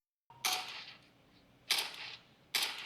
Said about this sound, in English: I'll try to create a fake event, which is the same gunshot event.